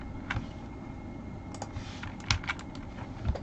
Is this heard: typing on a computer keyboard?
yes